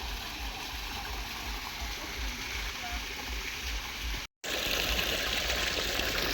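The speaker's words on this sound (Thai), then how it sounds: "บนน้ำตกเนาะ" A waterfall at a temple cave, heard as a constant broad rush of falling water close by, briefly cut off by a short gap before resuming.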